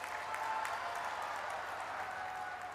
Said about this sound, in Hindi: सभी लोग जगदीशपुरी महाराज जी के लिए जोर से ताली बजाइए जरा